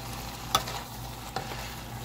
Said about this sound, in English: so you can saute it down more so and get that little brown